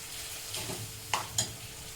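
Boiled black-eyed peas are stirred in a pan for a curry, giving a soft sizzle with a couple of sharp scraping clicks from the spoon.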